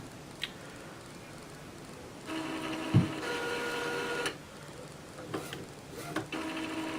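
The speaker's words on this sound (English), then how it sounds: "As the printer is charging up the cartridges" An Epson inkjet printer fitted with a CIS continuous ink system primes its cartridges, giving a steady mechanical whir and hum with occasional clicks and ratcheting pulses, close by and with no talking.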